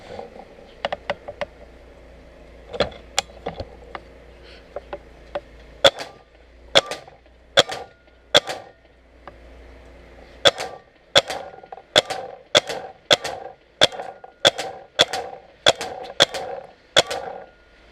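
A rebuilt Tippmann 98 Custom paintball marker fires sharp, close single shots, at first sparse and irregular, then in a faster steady rhythm, with mechanical clicks between them and no talk.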